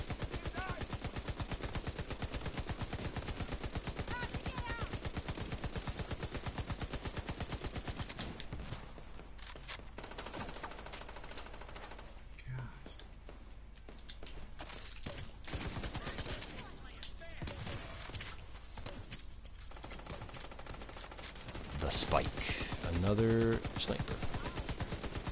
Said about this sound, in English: I don't know what he's shooting, some kind of little like blaster thing.